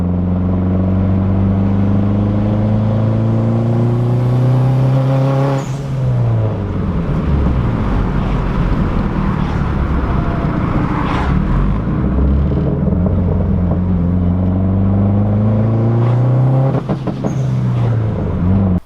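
A car makes a second-gear acceleration pull, its engine note rising loudly and steadily, dropping at a shift, then climbing again in a second long sweep, close and continuous.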